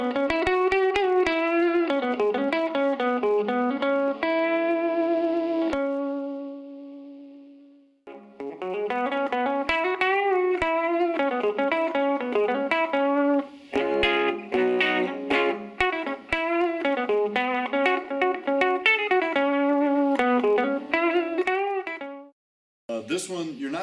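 Guitar played through a Silvertone 1472 amplifier with the tone control turned fully up, bright and crisp clean notes in melodic runs and chords, with brief pauses and a sustained ringing note before the playing resumes.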